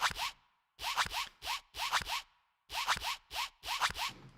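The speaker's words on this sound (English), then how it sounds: "that is literally a zip" A clothing zipper is pulled in quick, raspy strokes, recorded up close as a drum sample: bursts of two or three zips with short silent gaps between them, and no voices.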